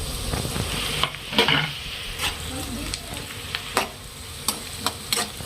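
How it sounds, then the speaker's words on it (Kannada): Onion and chopped tomato fry and sizzle in a pan, with steady crackle and several sharp stirring scrapes and clicks spread through the clip, close and moderately loud. "ಇದು ಫ್ರೈ ಮಾಡ್ಕೊಂಬಿಡೋಣ"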